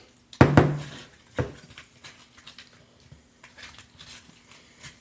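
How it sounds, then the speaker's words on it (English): Green bean casserole spooned into a baking dish in a home kitchen, one sharp clack of a utensil against the dish followed by a second knock and softer scraping taps. "We're going to put it out in this baking dish."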